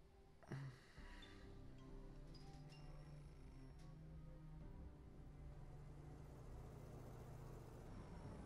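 Bus engine idling in the video game Beholder, a steady low rumble with a faint startup clunk at the beginning, holding evenly throughout.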